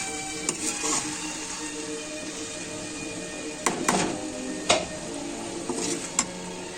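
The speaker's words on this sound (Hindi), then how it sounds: "सब्जी मैंने छोक दी है" A vegetable curry sizzles in a pan under a steady frying hiss, with a few sharp utensil scrapes and clinks as it is stirred, close and moderately loud.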